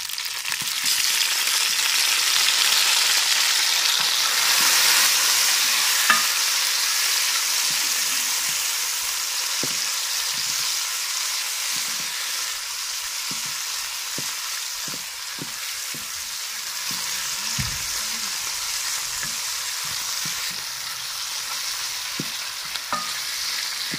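Chopped onions with tomatoes and green chilies frying in a pan for potato stuffing give a steady, loud sizzle, with scattered stirring clicks and scrapes throughout and no voices.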